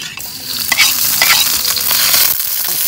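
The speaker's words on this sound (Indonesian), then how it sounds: "kita goreng dulu bahan ini ya sebelum kita masak belum buluh ya" Ingredients for bamboo-cooked rice with sardine filling fry in hot oil, a continuous close sizzle broken by scraping and stirring clatter.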